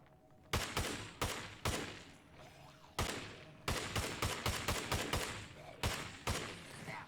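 Enemy gunfire in the video game State of Decay 2, a series of sharp, loud single shots and quick clusters cracking out at irregular intervals, no talk.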